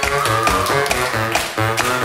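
A crowd at a club DJ set claps along in time to the music, its sharp rhythmic hand claps landing on the beat, loud and close, mixed in with the pounding track.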